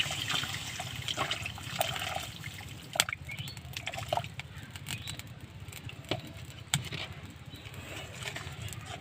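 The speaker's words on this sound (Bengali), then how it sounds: "এবার আমি এখানে দিয়ে দেবো জল।" Water pours into a pan of lightly fried mustard and turmeric, giving a continuous pattering trickle with small splashes and clinks, close by and fairly quiet.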